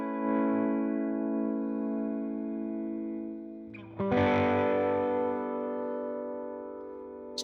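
Electric guitar chords ring out through a pedal chain with distortion and reverb, sustaining loudly with a spacious, room-like tail, then a fresh strum crashes in around the middle and keeps ringing.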